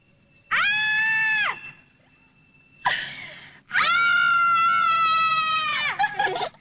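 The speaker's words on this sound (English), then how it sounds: "If I hear it one more time, I'll think I'll... What? Ooh. Scream? Yes. Like this?" A person lets out a long, loud scream, pauses, then screams again at length, each a sustained, piercing vocal cry.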